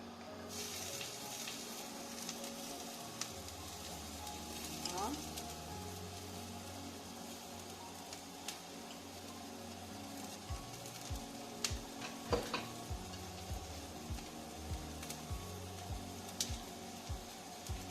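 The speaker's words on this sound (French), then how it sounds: "On va y mettre les oignons, l'ail, ça va être à feu doux." Onions and garlic cook gently in a few spoonfuls of oil over low heat, giving a faint steady sizzle with scattered soft taps and scrapes of stirring, quiet and without talk.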